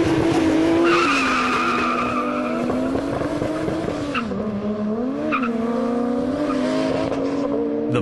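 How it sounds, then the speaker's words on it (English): Turbo Toyota Supras at a drag race start line, engines held at high revs then launching with tire squeal, loud and close, pitch wavering as they pull away, no voices. "Look at those start line revs."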